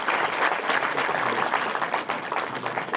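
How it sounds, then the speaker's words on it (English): Audience applause at a college literary forum inauguration in an English department hall, continuous lively clapping for about three seconds, moderately loud with no speech over it. "And I would like the audience to give him a big round of applause."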